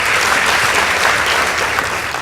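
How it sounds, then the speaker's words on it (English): Applause from a school debate audience, with dense, steady clapping at full volume across the whole stretch and no voices standing out. "Please give them a round of applause."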